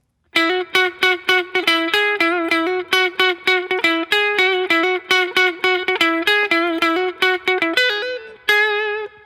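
The riff of a song played on a guitar with effects, a quick sequence of clean plucked notes in a steady rhythm, closing with a few slides and a held final note, alone and clear.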